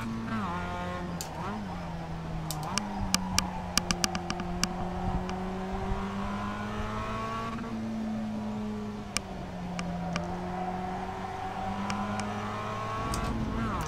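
Mazda MX-5 engine in the iRacing sim around Okayama, revving up and down through gear changes with a rising and falling steady drone, sharp clicks from shifting scattered over it, and no talk.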